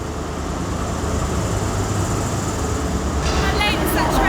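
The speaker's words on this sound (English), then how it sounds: "How late is that train?" A train at London King's Cross station, a steady loud rumble filling the whole clip with constant mechanical noise, and a brief higher whine or squeal creeping in near the end.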